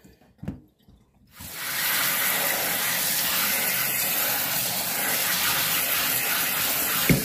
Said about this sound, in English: the reason I do it in a colander over the sink is because all the water that comes out will go right down the drain